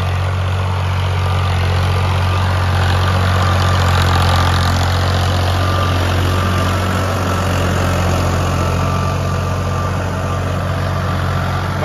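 A tractor engine, a Mahindra 575 or a Farmtrac 45, idles steadily close by, a low, even diesel rumble with a constant hum and no change in pace.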